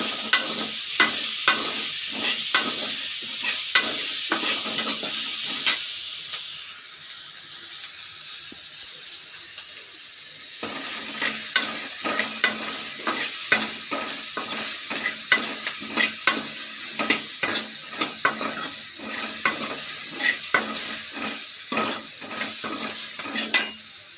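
Vegetables sauté with a little salt in a pan, a continuous frying sizzle broken by rapid rhythmic scrapes and clinks of a spoon stirring against the metal, close and fairly loud, pausing briefly midway before the stirring resumes.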